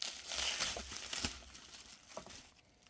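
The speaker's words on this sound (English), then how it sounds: "So now we can unwrap our SSDs." Close, quiet crinkling and rustling as a packaging sleeve around a solid-state drive is unwrapped, with a few soft tearing and crackling bursts that taper off toward the end.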